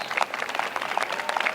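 Audience at a White House welcome ceremony applauds, a steady patter of many hands clapping at moderate distance, dense and even throughout without speech.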